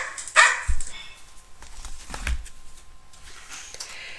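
Puppy Biscuit at the beach gives a couple of short, close barks, followed by scattered rustling and softer sounds.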